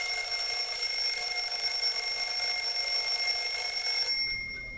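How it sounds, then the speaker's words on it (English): Sternreiter ruby red twin bell wind-up alarm clock ringing loud and continuous in a steady metallic clatter, stopping abruptly near the end with a brief fading tail. "We're going to do the alarm in real time right now. Super loud."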